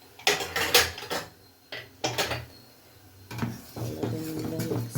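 Metallic clinks and scrapes of a spoon and steel idli plates as rava idli batter is portioned into them, short clattering bursts with pauses between, close and fairly soft.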